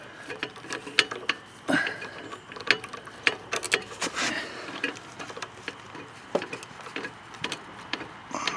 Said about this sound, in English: next we'll put on our intake bolts.